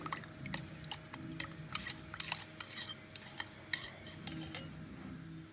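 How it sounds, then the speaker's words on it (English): Spoon stirring instant hot chocolate made with Bournvita and no sugar in a cup, producing quiet, close, irregular clinks and scrapes against the sides with soft swirling in between. "It's time to mix well."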